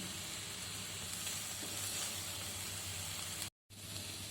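Soaked chana dal fries with onions in a pan, giving a steady, close hiss and sizzle broken only by a brief moment of silence near the end; no one speaks.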